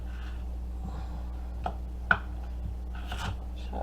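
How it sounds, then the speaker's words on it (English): A knife chops potatoes on a board for beef stew, giving a few sparse, sharp cuts over a low steady kitchen hum. "Chopping away."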